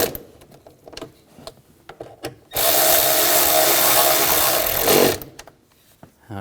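A power tool tightens valve cover bolts on a 2007-2013 BMW X5 3.0L inline-six in one loud, steady whir lasting about two and a half seconds, with softer handling clatter before and after.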